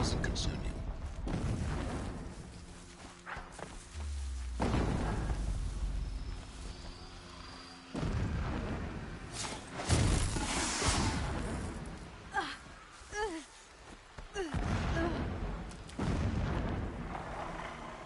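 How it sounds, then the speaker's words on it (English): Deep booming explosions rumble in the distance within the video game Horizon Zero Dawn, several separate blasts rising and fading over quieter stretches of background ambience. "Explosions in the distance."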